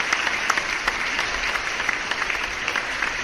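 Steady applause from a crowd, dense clapping throughout with no voices rising above it.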